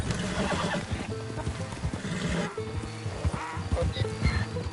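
A horse in the video game Red Dead Redemption 2 neighs and whinnies loudly and close, with hoof clops and game ambience beneath.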